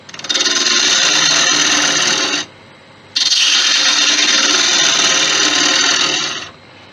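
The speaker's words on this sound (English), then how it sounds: "Now I'm just going to hollow this out, same as anything else." Wood lathe hollowing out a turned wooden Christmas angel, a loud harsh scraping cut running for about two seconds, a brief pause, then a longer second pass, close up with no talking.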